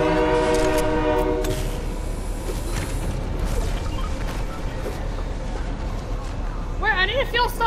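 A video game train rushes past with a blaring multi-tone horn at the start, then a rumbling roar of wagons, and a sharp warbling horn near the end, with a voice talking over it.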